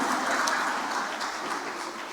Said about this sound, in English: Please, a round of applause for President Bola Ahmed Tinubu.